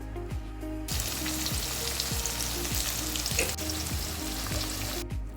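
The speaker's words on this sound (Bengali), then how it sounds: "এতে ডুমো ডুমো করে কেটে রাখা আলু দিয়ে দেওয়া হলো।" Steady, loud sizzling of diced potatoes frying in hot mustard oil, with repeated scraping strokes of a spatula stirring them throughout.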